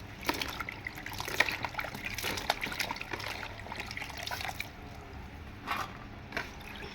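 Chopped green jackfruit being rinsed under water in a kitchen, a steady trickling and splashing flow with small bursts of dribbling, close but soft, without any speech.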